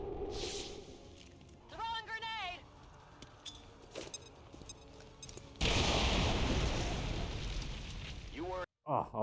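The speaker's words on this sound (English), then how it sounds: "just listen to these various sound effects from the guns" Weapons fire in XCOM 2 comes as scattered sharp shots and mechanical clicks, then a loud sustained blast of gunfire and explosion noise near the end, with a voice talking over parts of it.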